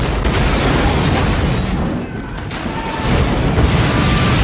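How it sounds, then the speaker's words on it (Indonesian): Small boat exploding in a film scene, a loud sustained roaring blast with rumbling fire that swells again toward the end. "Dan kapal kecil itu pun meledak melebihi kompor meleduk."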